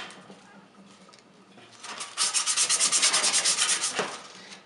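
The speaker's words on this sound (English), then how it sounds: "So I'm just going to make sure I got some of the rust and debris off of the shaft behind the bearing" Rust and debris being scraped off an old blower shaft behind the bearing, a close, loud run of quick rhythmic rasping strokes after a quieter start.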